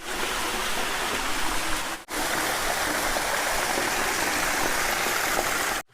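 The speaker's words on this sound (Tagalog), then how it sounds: "Masarap magpahinga dito habang rinig mo yung mga ingay ng ibon at lagasak ng tubig" Clear water rushing steadily over large rocks in a forest stream, a loud continuous wash close by with one brief drop near two seconds.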